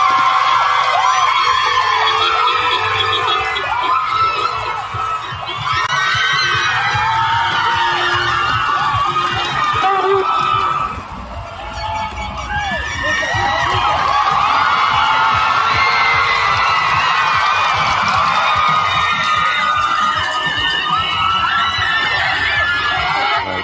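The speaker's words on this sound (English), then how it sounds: "Wild applause in the streets." A big crowd cheers wildly in a city street, with whoops, shrieks and shouting. The noise is loud and dense and runs nearly nonstop, with a brief dip partway through before it swells again.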